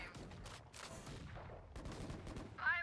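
Video game gunshots fire in a quick burst, several sharp cracks close together under busy game noise, with a brief chirping effect at the end.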